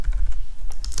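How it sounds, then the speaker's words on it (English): Rapid clicks of fingers typing on a computer keyboard while entering C++ code, a close run of uneven keystrokes with no talking. "So we're typing size of and then round brackets immediately after it"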